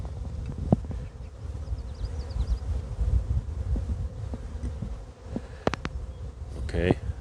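Honey bees buzz around an open hive, a continuous low droning hum with scattered sharp knocks and clicks from handling, plus a brief wind rustle near the end.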